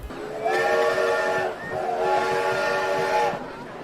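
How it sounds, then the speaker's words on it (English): Roller coaster train in a theme park building video game, heard as two sustained, harmonic whistle-like tones rising and fading over a rumbling track noise, fairly loud and without talk. "Look at the train, listen to that."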